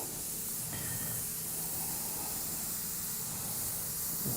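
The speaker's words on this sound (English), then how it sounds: "Everything is remove and spray, remove and spray." A steady broadband hiss of spraying, like an aerosol or airbrush running continuously for several seconds, fairly quiet with a faint tonal whine partway through.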